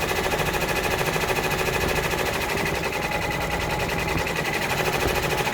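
A multineedle embroidery machine stitches a freestanding design, with a fast, steady mechanical rattle of needle strokes running continuously at moderate loudness.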